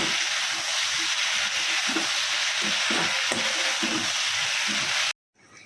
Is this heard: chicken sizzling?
yes